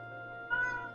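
A single cat meow from a character in the video game Final Fantasy XIV, clear and close, rising over a steady background of game music.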